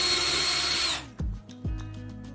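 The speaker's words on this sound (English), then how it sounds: "Take a plumbing tube and drill a hole on the side near one end." A power drill whirs briefly at high speed through plastic pipe, then stops, followed by a couple of low thumps and clatter.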